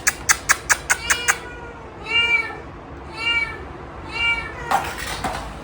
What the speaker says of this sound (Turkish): Kız sen ne kadar çok miyavladın ya.